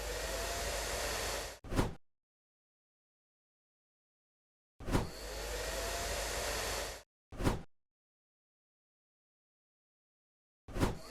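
A blower or hair dryer heats a OnePlus Buds Z2 earbud skin, its steady whooshing roar running in two long bursts with short blasts between and silence in the gaps.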